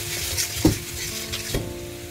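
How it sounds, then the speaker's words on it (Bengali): Tomato-based masala with chili powder, vegetable masala, salt and a splash of water sizzles in a pan for vegetable khichuri, a steady close frying hiss broken by a couple of sharp stirring clacks, no voices. "অল্প পরিমাণ জল দিয়ে মশলা কষিয়ে নেব।"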